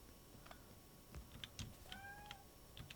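A pet cat meows a few times, faint and close, with short rising and falling cries scattered among quiet keyboard-like ticks and clicks.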